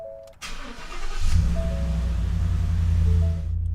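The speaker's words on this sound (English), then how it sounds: "We're going to turn the car on for a sec, let it run" A 2015 Ford F-150 5.0L V8 engine cranks and catches after a short starter whir, then settles into a steady low idle close by.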